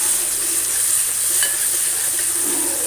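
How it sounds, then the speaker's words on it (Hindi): Chopped tomato puree fries with ginger garlic paste in oil for chicken do pyaza, giving a loud, even, continuous sizzle with faint stirring clinks. "अब हम इसमें डालेंगे टमाटो की प्यूरी, ये जो हमने चॉप टमाटो किए थे। इसे अच्छे से भून लेंगे"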